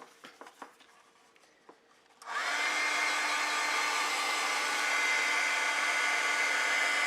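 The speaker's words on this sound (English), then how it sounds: "And now I'm going to take my dryer and dry that up." A hair dryer switches on and blows steadily to dry a wet watercolor and ink wash painting of a lavender field, its loud, even whir following a few quiet taps and brush sounds.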